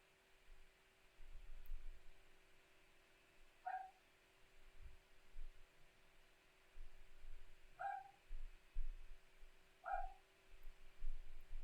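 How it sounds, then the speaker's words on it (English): A dog barks faintly in the distance: three short, sharp yips spaced a few seconds apart, over a low, quiet background hum. "I don't know if you can hear barking in the background."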